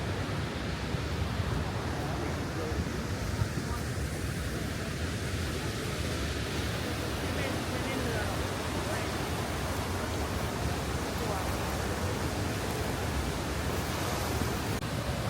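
Rhine Falls waterfall in Switzerland roars as a broad, steady, rumbling wash of falling water, continuous and dense throughout with no clear pauses.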